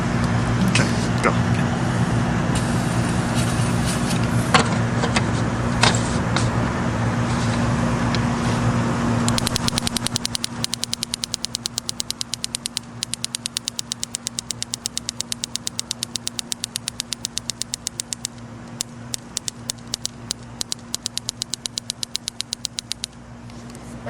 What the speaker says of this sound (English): There's a car.